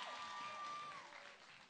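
An audience applauds Sita Kone, deputy mayor of Adjamé, at a Tabaski celebration: steady, dense clapping from a crowd throughout, with a faint sustained tone running across it and no speech.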